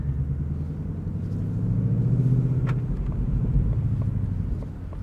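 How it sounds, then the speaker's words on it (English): A 2020 Ford Mustang GT convertible with a six-speed manual cruising at low speed in the evening, its engine giving a steady deep rumble that swells slightly midway, heard up close with faint wind noise. "Let's see how this Mustang drives. Take it out for a little bit of an evening cruise."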